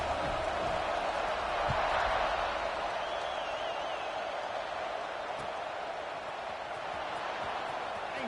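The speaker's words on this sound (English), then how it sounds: "this crowd now ready to get behind them" A college football video game stadium crowd fills the air with a broad, steady roar at moderate distance, with a faint whistle-like tone rising briefly through it.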